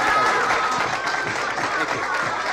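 Audience applause at a Mort Sahl comedy show in 1960: a dense, steady wash of clapping from a large crowd, loud and sustained throughout with no speech over it.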